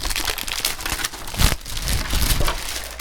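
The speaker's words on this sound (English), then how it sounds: "Get this thing out of its little plastic bag here." A plastic bag crinkles and rustles in close, uneven bursts as a Thermaltake MEKA G-Unit mechanical gaming keyboard is pulled out of it.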